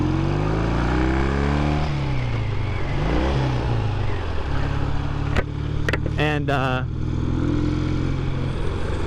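A 1965 Triton motorcycle engine drones steadily while riding, a low continuous rumble with a few sharp rising revs near the middle, beneath brief talking.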